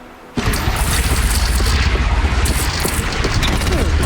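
A mounted heavy weapon fires ammunition in Horizon Zero Dawn, starting abruptly after a quiet moment and pounding on in a loud, rapid, continuous stream of booming shots with a steady rhythmic pulse.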